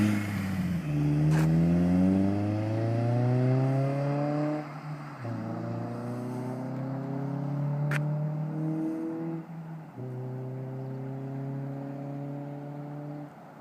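A 2008 Honda Civic Si with a full race exhaust pulls at wide open throttle, its loud engine note sweeping upward through three rising runs, each cut by a brief shift break, close and steady with no talking.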